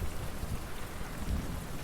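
Steady rain falls as a dense, even wash of hiss with a low rumble beneath it, continuous and fairly loud, with no voices.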